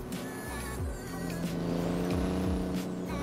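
BMW M2 drift car, about 800 bhp, revving at a drift track, with a loud engine roar and rising and falling pitch sweeps, while a faint high turbo whistle rides over it.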